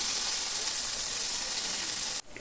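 Chopped onion frying in hot oil, a loud continuous bright sizzle and hiss close by that cuts off sharply near the end, leaving a faint quieter hiss.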